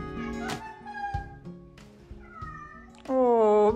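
A cat meows repeatedly in reply, several short calls close by, the last one louder and longer, with quiet household background between them.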